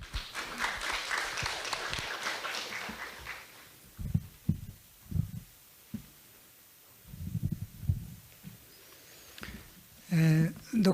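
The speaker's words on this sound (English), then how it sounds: "Mr. Koyama, please give a round of applause." An audience applauds at the 2024 NARO-JIRCAS-FFTC International Symposium, a moderately loud, steady clapping for several seconds that fades out before a speaker begins talking.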